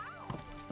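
A horse in the medieval video game Kingdom Come: Deliverance, glitching, makes brief hoof clops and a whinny-like cry under steady talk.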